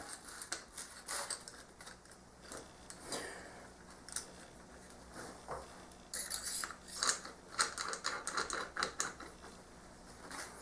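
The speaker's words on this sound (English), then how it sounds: "What I'm going to do is just put on the long back cap that comes with it." A long back cap is screwed onto the TIG torch of a 160 amp dual-voltage TIG and stick welder, giving close, dry clicks and scratchy threaded rasping in irregular bursts, with no voices.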